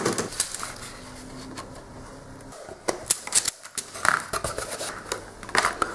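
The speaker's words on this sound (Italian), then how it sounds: "Adesso rifiniamo con delle forbici il cartoncino," Scissors trim cardstock for a handmade Christmas paper bag, giving a series of crisp, close snips and clicks in irregular clusters over a quiet background.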